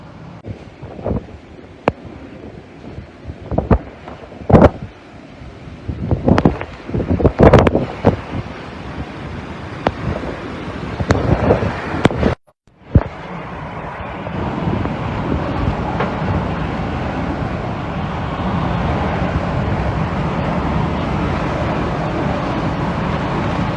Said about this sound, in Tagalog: Grabe. Ang lakas po ng hangin,